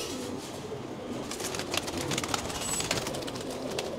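Kitel bloodline racing pigeons from the Netherlands coo steadily in a loft, with layered, close cooing, soft rustling and occasional wing flaps running throughout.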